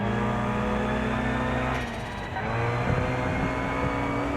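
Racing car engine droning steadily while cornering at speed in BeamNG.drive, with a sustained low engine hum that dips briefly then returns, continuous and close throughout.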